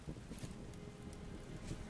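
Steady storm rain hisses and patters across a Vintage Story game world, a dense, continuous wash of drops with light wind underneath, with no voices over it.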